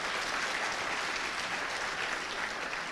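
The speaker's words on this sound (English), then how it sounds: "So just another round of applause for them" An audience at the DevConf.cz 2015 conference in Brno claps for the organizers: a steady, dense wash of applause from a large hall crowd, even in loudness from start to finish.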